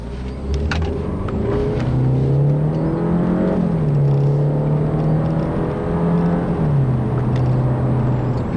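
A 2013 Ford Fusion SE's 1.6-litre turbocharged engine revs up through the gears, its pitch climbing then dropping with each shift, steady and close, with no talking.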